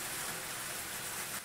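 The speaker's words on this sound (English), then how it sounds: "I think it's hailing." Hail pelting down outside, a dense, steady hiss of countless small impacts close by, continuous and fairly loud throughout with no talk.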